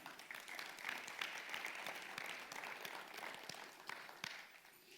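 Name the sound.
congregation applauding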